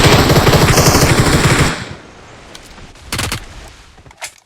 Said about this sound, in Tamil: ஸ்னைப்பர் இது சப்ரசர் போட்டு அடிச்சிட்டு இருக்கான் ப்ரோ